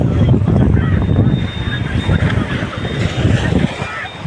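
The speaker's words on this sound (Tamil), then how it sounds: "அலை பாருங்கள் எவ்வளோ சூப்பராக இருக்குது" Sea waves wash onto Rameshwaram beach near moored fishing boats, a loud rolling surge heavily mixed with gusting wind noise on the microphone, while a voice talks over it.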